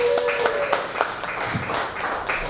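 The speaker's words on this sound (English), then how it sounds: "Please clap your hands for Nadine Donnachie." An open mic audience at a bar claps for the next performer, scattered hand claps in a small room with murmuring voices mixed in throughout.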